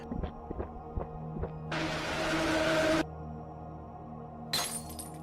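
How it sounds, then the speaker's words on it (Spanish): A glass bottle shatters in a loud burst of breaking glass lasting over a second, with another sharp crash of glass near the end among quieter clinks and knocks. "la botella se rompió"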